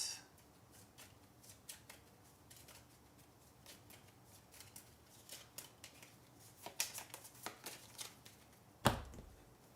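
Astro Knights: Eternity weapon cards being shuffled by hand, a run of quick crisp riffles and flicks that grow busier toward the end, closing with one sharp loud snap, close and quiet with no talk.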